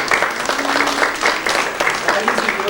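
Audience clapping in a room, steady scattered applause throughout, with faint voices mixed underneath.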